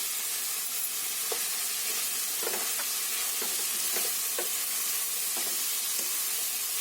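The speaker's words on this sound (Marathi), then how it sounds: "आता याच्यामध्ये गाजर टाकते." Carrots added to a pan of frying cabbage for a cabbage masala sizzle steadily with a constant hiss, broken by several soft scraping stirs of a spoon against the pan, close and alone with no talking.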